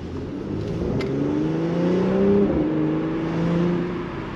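A 2023 Mercedes-AMG C43 Coupe with a 9-speed automatic pulls away on the road, its engine note rising steadily through the gears in a loud, continuous run heard from inside the cabin.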